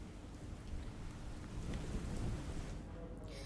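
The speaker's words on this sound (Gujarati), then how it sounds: "મુંબઈમાં હજુ પણ વરસાદ વરસી રહ્યો છે" Heavy rain falls steadily across Mumbai, a dense, even wash of noise that stays fairly faint and distant throughout with no voices.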